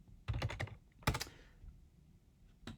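Quick bursts of keystrokes clatter on a computer keyboard while a search is typed, two short clusters of taps close to the microphone with a pause between and one final tap.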